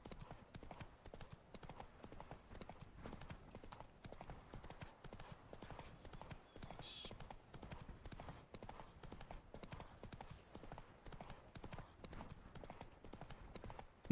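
Hooves of the horse Roach in the video game Witcher 3: Blood and Wine, a steady, quick clip-clop of trotting that repeats evenly and faintly throughout with no other prominent sound.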